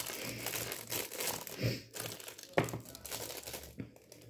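A double-sided adhesive glue pad is peeled up close by, giving soft crinkling and tearing rustles with a couple of sharper crackles at a quiet level.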